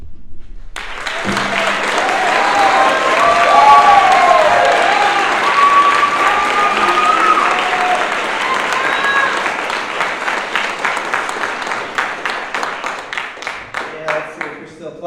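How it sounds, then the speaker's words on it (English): Applause from the audience at a Class 31A AmeriCorps induction ceremony, a sustained, dense wash of clapping that swells early then thins into scattered claps toward the end, with a voice briefly heard over it. "let's see if you're still clapping when I'm done"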